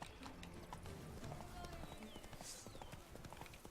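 Hooves of Geralt's horse Roach in The Witcher 3: Blood & Wine, a rapid running clip-clop in an open outdoor game world, with someone talking over it.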